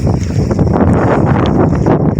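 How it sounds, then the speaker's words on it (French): Strong wind gusting at around 100 km/h during a rainy winter storm, a loud, constant roar buffeting the microphone with no let-up. "ça souffle à 100 km/h au niveau du vent"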